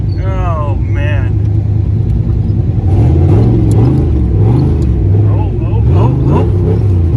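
A Mustang race car engine on slicks revs hard and drops repeatedly in snow, loud and close, its pitch climbing and falling in quick bursts.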